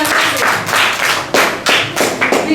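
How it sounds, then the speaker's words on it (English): Children clap in a classroom lesson, loud, close, rhythmic bursts of hand claps in uneven groups, with no talk over them. "This is a big clap for you."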